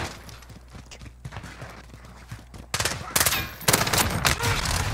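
Gunfire in the video game Modern Warfare: rapid bursts of shots, faint and muffled at first, then louder and denser automatic fire toward the end.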